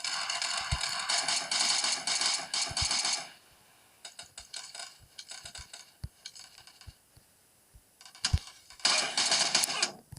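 Gunfire in PUBG Mobile, bursts of rapid sharp shots in two clusters separated by a pause with scattered single cracks between them, fairly close and not masked by any voice.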